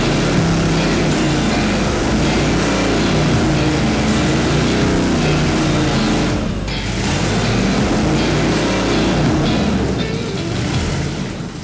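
A supercharged Hemi engine runs hard on a dyno, a loud steady roar that holds level, dips briefly near the middle, then comes back up with mechanical whine over it.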